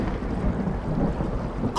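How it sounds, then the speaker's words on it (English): A steady, low rumbling roar like distant thunder and rain in the video game SOMA, heard underwater, continuous and muffled, with a brighter crackle of noise near the end. "Is there really a storm going on underwater?"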